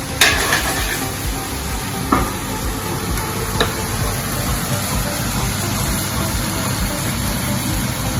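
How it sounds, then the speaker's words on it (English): Tomatoes sizzling and bubbling in a hot restaurant pan, a continuous close frying hiss with a low steady rumble beneath and a few sharp clicks early on, no voices. "You can hear the heat in that pan starting to cook now. Those tomatoes boil instantly."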